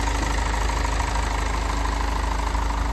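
A 2015 Hino 195 truck's 5-liter diesel engine idles steadily nearby, a continuous rough, knocking rumble with no change in pace.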